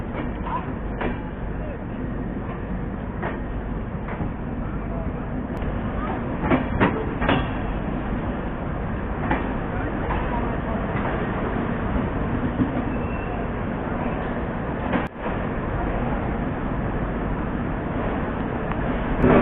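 Mau Anand Vihar Express train running through monsoon weather, heard from on board as a steady, loud wheel-and-carriage rumble with scattered rail clicks and one sharp jolt near the end.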